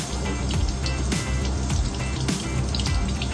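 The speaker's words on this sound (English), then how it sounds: "Now rinsing my left hand, making sure that there are no soaps left behind." Tap water runs steadily into a sink while soap is rinsed off the hands, a loud close continuous splash with small shifts as the hands move through the stream.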